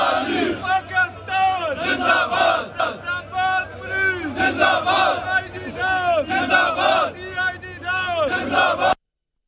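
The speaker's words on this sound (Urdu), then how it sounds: "یہ نعرے لگا رہے ہیں" Crowd at a police march in Pakistan chanting slogans together, loud and dense with rhythmic massed voices throughout, cutting off abruptly near the end.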